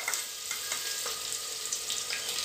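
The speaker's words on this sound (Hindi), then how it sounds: "अब थोड़ी सी प्याज फ्राई कर लेनी है और उसमें अदरक लहसुन ऐड कर अच्छे से फ्राई कर लेना है।" Onion with ginger and garlic fries in a pan for turai gosht salan, a soft, even sizzle close by with a few light stirring taps, fairly quiet and with no talk.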